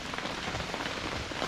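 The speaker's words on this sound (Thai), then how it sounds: "ขณะฝนตกนะครับ" Rain falls steadily on a camping tent, a dense, even hiss of drops with no gaps, close and moderately loud, with no voices.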